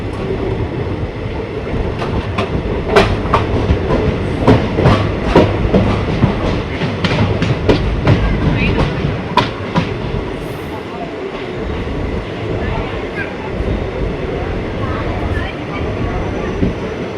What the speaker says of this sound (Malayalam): ട്രെയിൻ ഇതാ ശിവമൊഗ്ഗ ടൗൺ റെയിൽവേ സ്റ്റേഷനിലേക്ക് എത്തിക്കൊണ്ടിരിക്കുകയാണ്